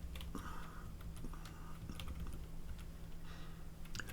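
Computer keyboard keys tapped in scattered single clicks while entering data into a construction loan calculator, faint against a steady low electrical hum.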